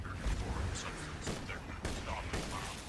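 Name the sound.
Dahl Legendary Pitchfork burst fire in video game Borderlands 2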